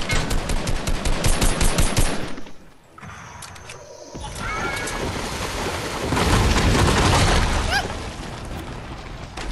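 Video game gunfire in an online shooter: rapid automatic bursts at close range, then a brief lull, then a louder sustained crackle of distant and near shots, with occasional electronic game sounds mixed in.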